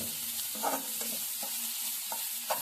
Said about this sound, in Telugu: కొద్దిగా సాల్ట్ యాడ్ చేస్తున్నాను తొందరగా ఆనియన్ అనేది ఫ్రై అవుతుంది